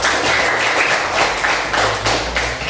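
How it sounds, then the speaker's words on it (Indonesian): A class of students applauds a presenting group during a lesson, giving brisk, fairly close clapping that runs steadily from start to end with slight swells and no talk over it. "Tepuk tangan untuk kelompok 3."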